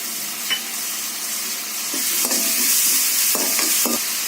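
Onions sauté with ginger garlic paste in a pan for a vegetable kurma, a continuous close sizzle broken by several short spatula scrapes and stirs in the second half, and no one speaking.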